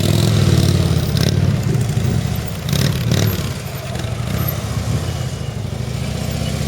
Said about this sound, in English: leaning the motorcycle at a very slow speed